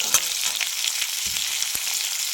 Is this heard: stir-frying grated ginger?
yes